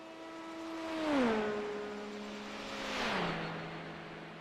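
An LMP2 prototype race car in a Le Mans racing video game passes close by. Its engine whine drops sharply in pitch as it goes past, and a second car follows the same way about two seconds later. Nobody talks.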